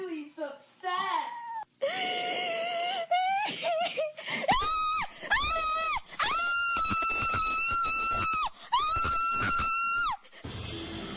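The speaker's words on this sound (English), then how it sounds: "Sobbing followed by horrific screams." A distressed woman sobs and then lets out long, piercing screams and wails, several sustained cries separated by short gaps, heard through a played recording.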